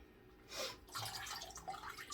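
Fresh water splashes over orchids growing in bark, a soft close run of dripping and trickling that swells briefly, then settles into a steady patter.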